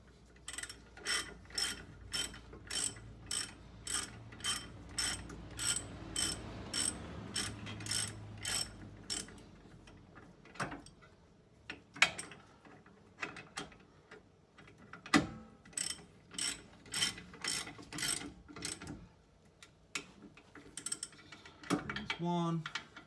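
A ratchet clicks in quick regular bursts while fasteners are worked on during a rear brake disc change on a motorcycle, close and crisp with short pauses between runs of clicks.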